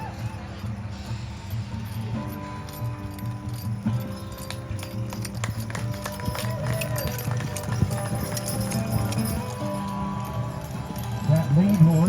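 Rhythmic hoofbeats clip-clop as draft horses in a tandem hitch trot along at a show, with jingling harness and a rolling cart, while a person talks over it.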